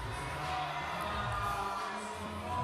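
Spectators cheering at a youth bouldering competition final in Graz, a sustained roar of crowd noise with scattered shouts, fairly loud and continuous with no distinct talk.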